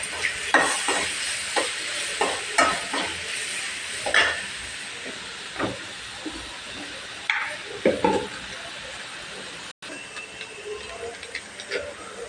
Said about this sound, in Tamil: இது ரொம்ப வதங்க வேணாம், மீடியமாக வதங்கினா போதும்